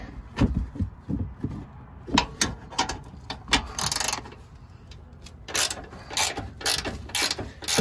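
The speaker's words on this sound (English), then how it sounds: "19-inch ratchet here." A ratchet clicks in short bursts while turning a bolt on the upper control arm of a Nissan Frontier, close and fairly quiet, with pauses between strokes and a few metallic knocks.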